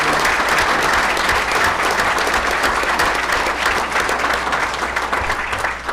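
Dense, sustained applause from a large audience at a board meeting, steady and loud throughout with no break.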